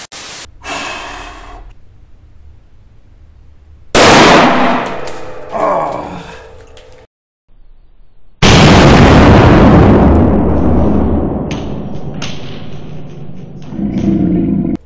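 A sawn-off IJ-43 12/76-gauge double-barrel shotgun is fired from its right barrel, giving loud, sharp blasts close by, each followed by a long ringing decay, with quieter handling sounds and breathing between them.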